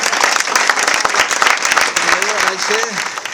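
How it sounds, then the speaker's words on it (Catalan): Loud, steady audience applause fills a Catalan folk music and dance evening of improvised verse singers, honouring Cisco; voices murmur and a brief sung or spoken tone rises near the end. "un aplaudiment a Cisco"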